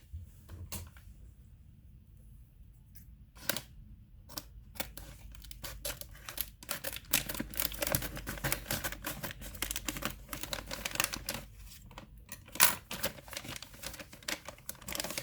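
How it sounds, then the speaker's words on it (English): Unboxing a Spigen tempered glass screen protector for a Pixel 4a: bursts of crisp tearing, crinkling plastic and cardboard handling, with sharp clicks and rustles growing busier after a quiet start. "So let's go ahead and just unbox this."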